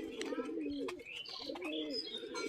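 Pigeons for sale at a house coo softly at close range, their low rolling calls repeating with a few light chirps mixed in.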